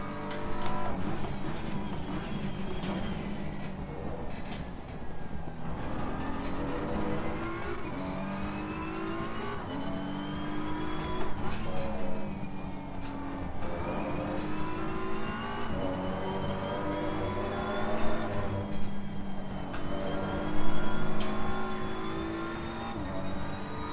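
Race car engine on a hot lap of Laguna Seca in a racing video game, a continuous loud whine that climbs and drops through gear changes and braking for about twenty seconds, with no talk over it.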